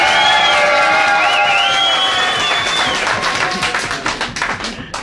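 A comedy-club audience bursts into loud applause and cheering for comedian LaWanda Page, with whoops and voices over dense clapping that thins into scattered, separate claps toward the end.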